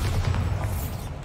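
A Bombarda blasting spell goes off in a video game as a dull, booming blast with a rumbling low end, heard close and loud for just over a second.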